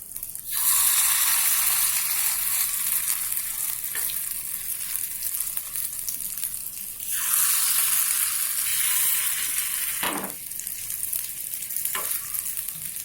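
Semolina breakfast batter sizzles steadily in hot oil, a loud continuous frying hiss that surges as more batter drops in, with brief clinks of utensils near the end.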